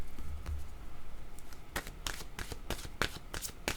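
Playing cards shuffled in quick, crisp riffling bursts, close and fairly loud, with repeated sharp flutters in the second half and no talk.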